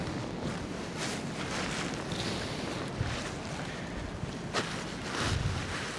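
Wind gusts across a microphone outdoors, a steady broadband rush with a few louder buffets and thumps and no voices.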